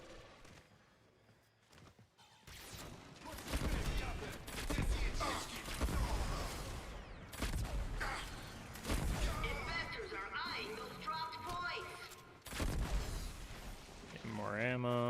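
Gunfire and explosions in the shooter game Warframe, with bursts of shots and heavy blasts that begin after a quiet opening and continue in dense waves, broken by brief gaps.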